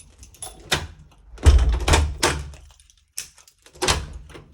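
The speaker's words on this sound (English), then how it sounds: "door opens and closes fine with no concerns" House door being opened and shut during a property check, giving a few solid thunks and a latch clunk at close range with quiet gaps between them.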